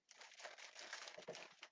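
Paper is crinkled and rustled close by for a brief moment, a dry crackling burst with no voices.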